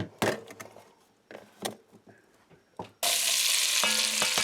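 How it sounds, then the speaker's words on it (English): Onions sweat in a pan with salt, first a few soft stirring scrapes and taps, then a loud, steady broadband sizzle that jumps in and holds, close up with no talking. "So I'm just going to season with some salt and let the onions sweat for a while"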